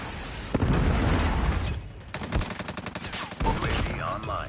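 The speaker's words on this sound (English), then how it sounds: "Friendly Predator missile inbound." A Predator missile strike in Call of Duty, with booming blasts and bursts of gunfire in quick succession, loud and close against a busy battlefield din, with a brief spoken line near the start.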